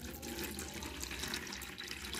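Water from a tap-like stream is poured onto bug gel crystals for tarantula feeder insects, producing a steady close splashing trickle for about two seconds with no talk.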